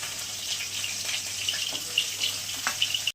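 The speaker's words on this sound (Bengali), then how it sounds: "মাছটা কড়া করেই ভাজবো" Tilapia fish fry in hot oil with a continuous hissing sizzle, scattered small pops and crackles, and a watery running-tap-like wash in the background; no one speaks.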